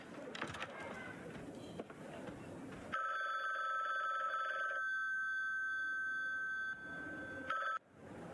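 A telephone rings in the video game The Bookwalker: a steady electronic ringing tone runs for several seconds and then stops abruptly. Faint background sound comes before it, with no one talking over the ring.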